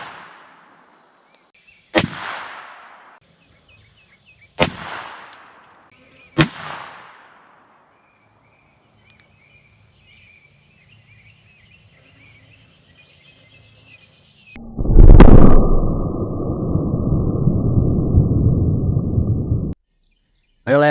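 Handgun rounds from straight-wall cartridges such as .327 Federal Magnum, .357 Magnum, .41 and .44 Remington Magnum and .45 Colt fired into a ballistic gel block: three sharp, loud reports spaced a few seconds apart, each with a brief decaying tail.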